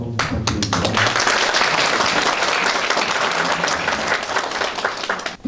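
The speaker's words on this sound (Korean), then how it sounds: "박수 한번 부탁드립니다." A hall audience at a county town-hall communication event breaks into loud, full applause that starts with a few sharp claps and swells into dense, steady clapping for several seconds.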